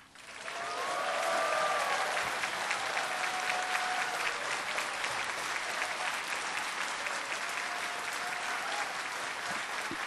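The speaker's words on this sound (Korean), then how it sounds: "뜨거운 박수로 환영해 주시기 바랍니다." Warm audience applause welcoming guests at a book launch event, a loud, sustained crowd clapping that swells in the first seconds and holds steady, with faint voices murmuring underneath.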